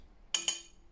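A metal spoon clinks twice against a glass jar of homemade hawthorn vinegar, two bright close taps about a sixth of a second apart, with a brief ringing tail in a quiet room.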